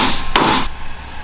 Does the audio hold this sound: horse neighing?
no